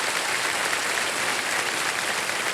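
A studio audience on KBC breaks into dense, sustained applause, a loud continuous wash of many hands clapping together without pause or distinct individual claps.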